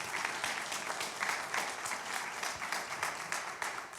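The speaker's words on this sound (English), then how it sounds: "Yes, you can applaud." An audience applauds members of Albuquerque Interfaith as they stand, a steady, dense wash of many hands clapping that fills the room without pause.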